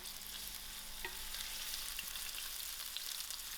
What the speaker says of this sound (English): To my oil, I'm going to add in my onions. And allow these onions to fry out.